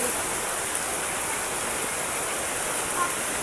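Heavy rain pouring steadily in a constant broadband hiss, loud and close, with no clear sign of it building in intensity.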